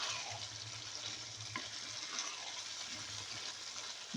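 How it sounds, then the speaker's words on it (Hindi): Chicken and turnips fry in oil in a pot for shaljam gosht, a steady close sizzle with soft scraping and stirring sounds of a spoon moving through the mix. "अब हम इसके अंदर ऐड कर लेंगे शलजम। मिक्स कर लेंगे।"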